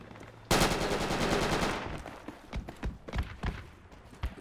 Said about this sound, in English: can you please tell the APC stop fire?